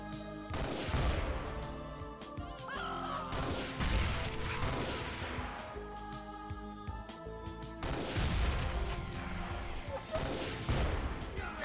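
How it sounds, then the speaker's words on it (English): Autocannon fire in the video game Xpiratez, a series of heavy, booming bursts with crashing impacts that come in waves, loud and reverberant, with game sound effects and a faint voice in between. "this is why strong cats have to use the autocannon here"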